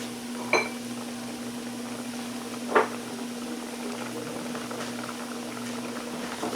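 A pot of grits for shrimp and grits bubbles under a steady low hum, with two sharp spoon knocks against the pot as it is stirred, no talk.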